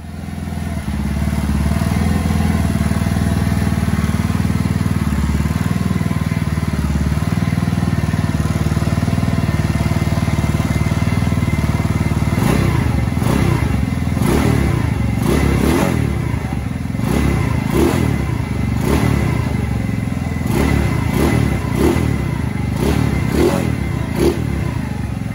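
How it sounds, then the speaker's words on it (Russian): A DiNGo T150 snowmobile engine fitted with a new 170cc piston kit runs steadily and loudly up close, its rough idle broken midway by a series of quick throttle blips and revs, with no voices. "Пустим первый дым на новой поршневой."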